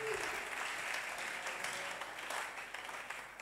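A church congregation at a Wednesday service claps their hands to acclaim God, giving steady, dense applause from many people that carries through the whole stretch, with a voice faintly audible beneath it.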